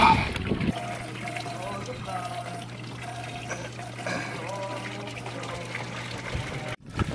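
Small pond filter pump keeps water circulating through a plastic tote, giving a steady trickle and gentle pouring with a low hum throughout, close by, with a person talking over it.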